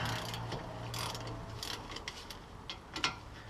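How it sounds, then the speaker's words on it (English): A ratchet loosening 18mm hub assembly bolts on a 2007 Lincoln Navigator wheel hub: quick clicking pawl sounds in short irregular bursts, moderately close, with no talking. "I'll take these 2 bolts out with the ratchet"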